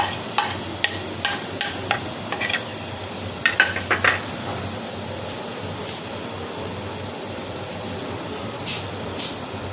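Onions fry over medium heat with ginger and garlic paste, giving a soft, steady sizzle, while a few sharp metallic clinks of a spoon stirring against the pan come early and again near the end.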